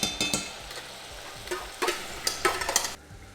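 Spices fry in hot oil for Kashmiri dum aloo, a soft continuous sizzle broken by light scraping and stirring strokes against the pan, close and fairly quiet, ending abruptly.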